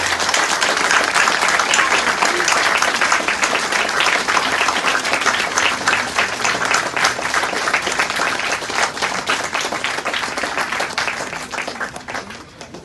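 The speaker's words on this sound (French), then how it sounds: "je vous invite à saluer et à applaudir Madame Stéphanie Geiser-Berthoud" Sustained applause from a large crowd at a municipal anniversary ceremony honoring a citizen, dense steady clapping that fades slightly toward the end.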